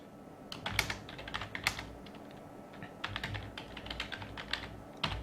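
A SQL query being typed on a computer keyboard: quick bursts of close key clicks with short pauses between them, heard alone without speech.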